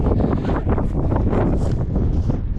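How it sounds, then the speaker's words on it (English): Strong, steady wind buffets the microphone outdoors near a trailer park, a loud continuous roar with rustling gusts and no pauses. "Man, it's windy."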